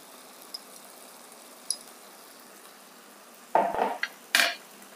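Ground spices with cumin powder, sugar and salt being roasted for chana masala, scraped and stirred in a pan: quiet kitchen background, then a few short, close metallic scraping strokes near the end.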